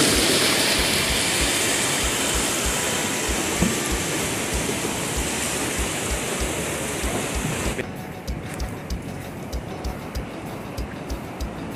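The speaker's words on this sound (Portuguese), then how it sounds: "Tem mais água e cachoeira." A waterfall with flowing water on a trail near the beach, a loud dense steady rush filling the scene; near the end the roar drops back and rhythmic footsteps and movement come through.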